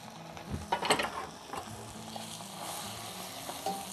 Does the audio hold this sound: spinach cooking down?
yes